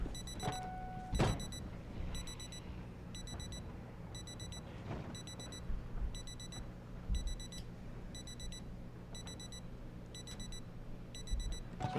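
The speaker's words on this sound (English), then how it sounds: "the watch I just picked up is now beeping." A digital wristwatch in the zombie survival game Project Zomboid beeps in short, evenly spaced bursts of high tones that repeat throughout, over a low in-game ambient rumble.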